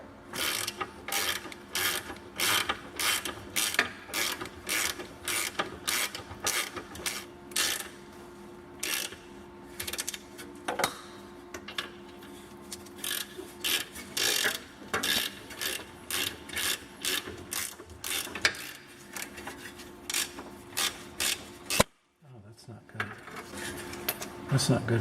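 A ratchet rapidly clicks in repeated bursts while tightening nuts onto an axle bearing retention plate on a Dana D44/D35 axle, with metallic ratcheting close by and a brief pause near the end.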